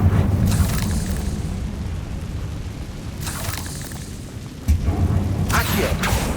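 Confringo blasts from the Hogwarts Legacy video game go off in a catacomb setting: three sharp, loud explosive bursts spaced a few seconds apart, each with a crackling tail, over a constant low rumbling ambience.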